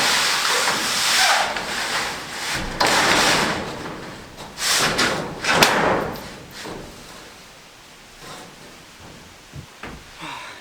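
Corrugated metal roof panels being laid out and dry fitted on an off-grid cabin shed, giving loud rattling sheet-metal thumps, scrapes and hissy clatter in several bursts, closer and heavier early, fading to lighter knocks near the end.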